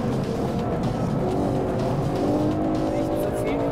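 Tuned BMW driven hard on a fast racing lap, its engine droning loud and close with shifting revs, a voice talking over it throughout.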